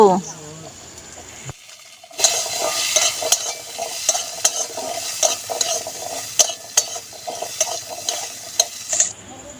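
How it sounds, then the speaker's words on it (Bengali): Hog plums stirred in hot oil with five-spice seeds for a chutney give a steady sizzle with repeated scraping and clinking of a spatula against the pan, close and fairly loud after a brief quiet start. "তেল দিচ্ছি পাঁচ ফোড়ন দিচ্ছি এবারে আমড়াগুলোকে তুলে দিয়ে নেড়ে নেব"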